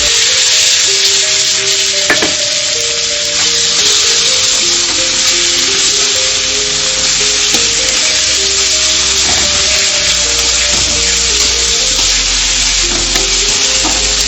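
Ground yardlong bean paste fries in a hot pan with a loud, constant sizzle, and occasional stirring scrapes sound up close with no talk.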